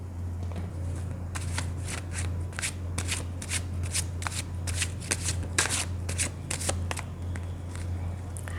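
Tarot cards are shuffled by hand during a reading: quick repeated riffling bursts crackle close up over a steady low hum, with no talking.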